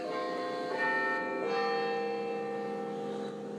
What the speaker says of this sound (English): This here is our Ellacombe chime rack at Our Lady Immaculate in St Cuthbert's Church at Crook.